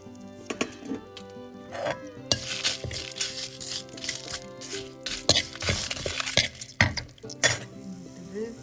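Cumin, pepper and coriander sizzle and crackle in hot oil while a utensil stirs and scrapes against the pan, with occasional clinks.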